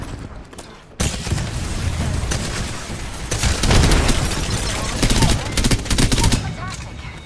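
Rapid automatic fire from a Devotion gun in the video game Apex Legends, dense loud bursts that keep going through the whole stretch, with battle noise mixed in.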